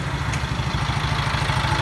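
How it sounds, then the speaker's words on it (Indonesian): A car engine, just started after a jump-start, idles with a steady low, even throbbing chug that carries on without a break at close range. "Ini mesinnya sudah nyala dan kita harus segera ambil kabelnya"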